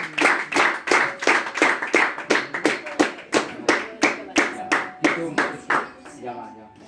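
Rhythmic unison clapping from a church congregation during a Spanish-language service, with about sixteen even claps on a steady beat, loud and close, fading at the end over a faint held tone.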